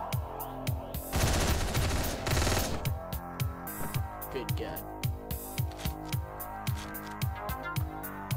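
Rapid gunshots in the video game Hotline Miami: a dense burst of automatic fire around the first two seconds, then a steady run of sharp, evenly spaced shots over pulsing game music.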